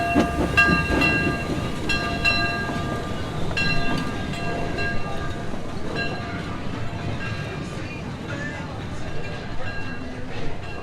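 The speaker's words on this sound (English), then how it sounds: "waited for the train to pull into the station" A train arrives at a station on an autumn Halloween excursion, steady rolling rumble with squealing, ringing tones and a horn-like blast near the start, while people talk in the background.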